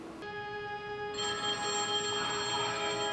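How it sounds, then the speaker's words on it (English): A payphone in a park rings with a steady, bright electronic trill that holds continuously and swells slightly, close and clear with no talk over it. "Who calls Batman on a payphone in the middle of a park?"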